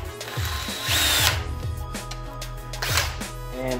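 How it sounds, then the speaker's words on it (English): A power drill whirs steadily through a Civic's rear bumper, its motor surging and bogging down in short bursts as a step bit cuts a hole, close and loud. "this is where we're gonna use the Unibit"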